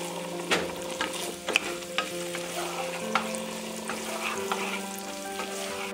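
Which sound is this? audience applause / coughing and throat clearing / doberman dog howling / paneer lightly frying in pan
paneer lightly frying in pan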